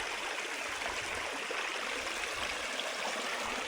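A small stream flows beside a trail in Madagascar, a steady, hissing rush of running water with a constant level and no voices.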